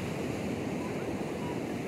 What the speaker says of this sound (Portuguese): Que a água tem um repuxo, mas uma onda linda ali, ó.